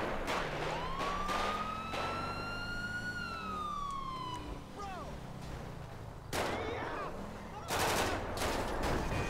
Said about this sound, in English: shots are fired